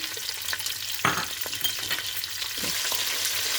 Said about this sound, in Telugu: క్యారెట్ ముక్కలు, ఆలుగడ్డ ముక్కలు వేసుకొని ఫ్రై చేసుకోవాలి